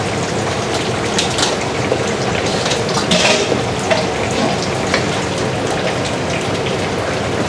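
Thai green curry with coconut milk at a hard boil in a pot, giving a steady dense bubbling and sizzling that stays loud and close throughout without a break.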